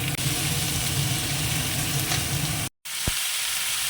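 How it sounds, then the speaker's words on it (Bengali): Chicken pieces sizzle loudly in a pan of oil with already fried onions, a dense continuous crackle heard up close with no talk, cut by one brief dropout near the end. "চিকেনটা দিয়ে দিই, দিয়ে আগে একটু ভেজে নেবো"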